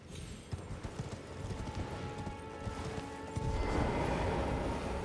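A horse clip-clops along in Elden Ring, a steady, rhythmic run of hoofbeats at moderate volume that grows louder and denser in the last second and a half, with no voices.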